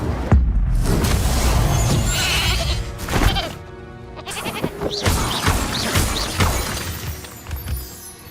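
Spell blasts from the video game Hogwarts Legacy, Confringo and Incendio, burst out as repeated loud explosive booms and crackling shatters layered with fiery whooshes and game effects, with no talk.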